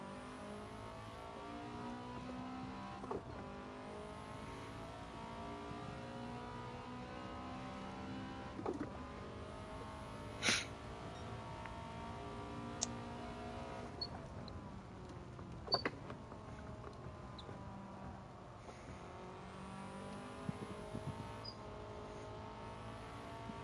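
A Subaru race car in Gran Turismo 7 holds a steady engine drone while rising and falling revs sweep through gear changes, with a few sharp clicks and knocks on top and nobody speaking.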